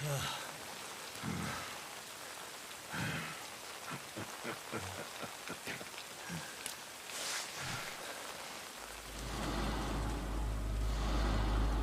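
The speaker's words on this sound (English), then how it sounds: "this is the first time it rains, evidently, in a Dragon Engine game" Steady rain pours in the Dragon Engine video game Lost Judgment, a dense hiss with scattered drops and occasional passing noises, heavier near the end.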